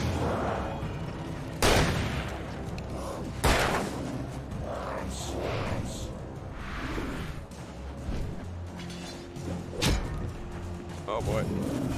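Shotgun blasts ring out in Alan Wake, three or four loud, sharp booms spaced a couple of seconds apart, with clattering action and a person talking over the fight.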